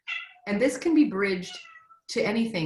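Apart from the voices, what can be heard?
cat meowing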